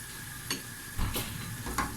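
Tomatoes cook in a pan with meat for a sautéed dish, a quiet steady sizzle broken by three soft clicks or scrapes of a utensil against the pan.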